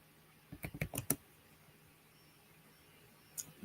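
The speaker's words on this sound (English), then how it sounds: "The click-clack of keys against the keyboard." Quiet bursts of typing on a laptop keyboard, a quick run of several clicking keystrokes in a row, then silence and one last faint tap near the end.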